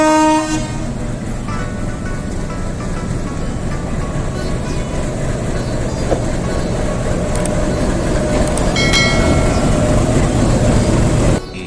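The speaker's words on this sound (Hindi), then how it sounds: "हमारी ट्रेन जो कि हेरिटेज ट्रेन के रूप में जानी जाती है आ गई है।" A heritage train pulls into Mhow station as a loud, continuous rumble of the rolling train fills the scene. Short horn toots break through near the start and again toward the end.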